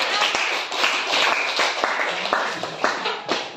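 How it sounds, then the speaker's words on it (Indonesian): A classroom of students claps for presenting groups, a busy wash of overlapping hand claps with crowd murmur and voices underneath. "Tepuk tangan untuk kelompok 5 dan kelompok lainnya"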